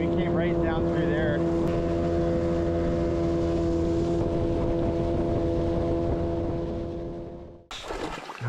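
A motorboat engine drones steadily with a loud, even hum on an Alaska river, wind buffeting the microphone, then the motor cuts out abruptly near the end.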